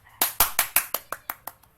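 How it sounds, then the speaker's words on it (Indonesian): Classroom applause for a student: a small group clapping in a quick, fairly even run of about nine sharp claps, close and clear, fading at the end. "Tepuk tangan untuk Ferry."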